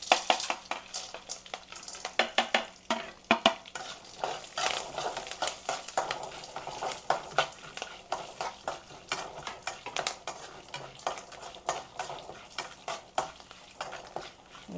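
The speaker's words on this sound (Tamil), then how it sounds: "இப்போ கடலை மஞ்சள் பொடி இதெல்லாம் போட்டு கொஞ்சம் வறுக்க போகிறோம்." Peanuts and turmeric powder being dry-roasted in a pan, with quick, repeated spatula scrapes and stirring clatter over a faint sizzle, close and continuous, with no talking.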